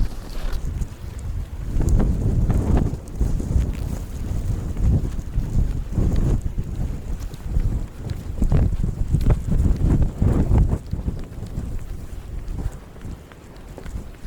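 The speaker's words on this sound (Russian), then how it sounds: "Но ветер сильнее, чем вчера." Strong blizzard wind in Norilsk roars and buffets the microphone in loud, uneven gusts that swell and ease throughout, with no voices heard.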